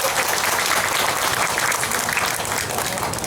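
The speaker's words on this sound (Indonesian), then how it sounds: "Syahnan Ferdianto, kita beri aplaus yang meriah." An audience at an Islamic community gathering applauds warmly for an award winner. The clapping is dense and sustained from start to finish, with no voices over it.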